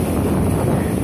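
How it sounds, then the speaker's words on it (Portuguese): Strong wind buffets the microphone on a beach on the Amazon coast at sunset, a steady loud low rumble with no break. "vai ficar barulho de vento"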